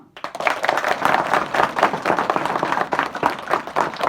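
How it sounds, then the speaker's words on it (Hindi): At a school prize giving for Children's Day, a crowd of students breaks into brisk, uneven clapping that starts abruptly, stays loud and close with individual claps audible, and runs for about four seconds. "तालियां।"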